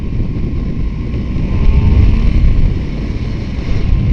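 A Bimota DB7 motorcycle accelerates in third gear on a street ride, its engine a steady loud drone mixed with heavy wind rush that swells midway.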